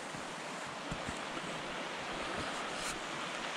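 A creek in winter rushes steadily in a continuous broad wash of flowing water, with no breaks and some wind buffeting the microphone.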